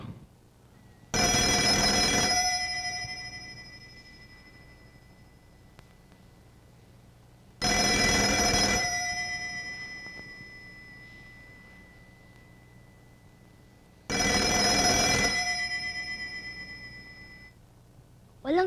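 An old telephone bell rings three times, each long electronic trill separated by several seconds of quiet, steady and unanswered.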